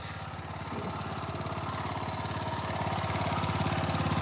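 A small 4.2-horsepower tiller engine runs steadily with a rapid, even chugging pulse, close and fairly loud, holding constant for the whole stretch with no voices.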